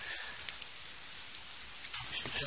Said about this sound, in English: they'll be hearing a lot of that dripping